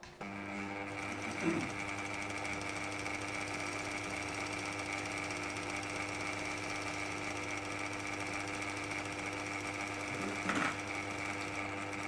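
A Singer 319 sewing machine runs steadily while winding a bobbin, a smooth, even motor hum with a faint rhythmic clatter and a couple of brief knocks.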